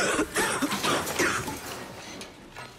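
Wet, chesty cough in a short burst of several rough hacks close to the listener, trailing off into quieter breaths.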